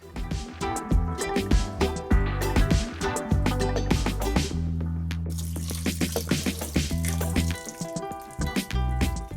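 Minced garlic is rinsed with a couple cups of water, with running, splashing water in a sink-like setting and clinks of utensils, continuous and fairly loud close up.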